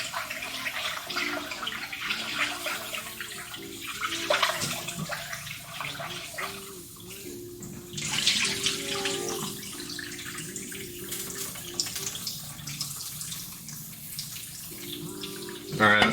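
Cold tap water runs steadily while rice is washed in a kitchen, a continuous splashing hiss with shifting pours and swirls, with a person talking intermittently over it.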